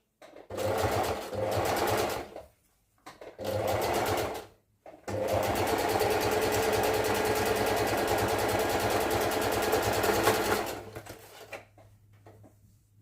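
A sewing machine back stitching near the hem of handmade pants runs in two short bursts separated by pauses, then one long steady whirring run of rapid needle clatter before stopping, close and loud with no talking.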